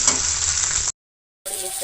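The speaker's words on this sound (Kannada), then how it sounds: "ಬೆಳ್ಳುಳ್ಳಿ, ಈರುಳ್ಳಿ, ಒಂದೆರಡು ಟೊಮೊಟೊ ಇಷ್ಟು ಚೆನ್ನಾಗಿ ಫ್ರೈ ಮಾಡ್ತೀನಿ." Garlic, onion and tomato frying in a hot pan for a traditional village-style horse gram bassaru, giving a steady close sizzle that cuts out abruptly to silence and then resumes.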